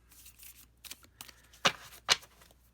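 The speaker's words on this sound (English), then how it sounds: "It riffle shuffles well too, but since the cardstock is so thin, you sort of have to be kind of super aware of being careful with it." A thin-cardstock Piatnik Wien playing card deck is riffle shuffled in short, soft fluttering bursts, ending with two sharper, brighter riffles close by.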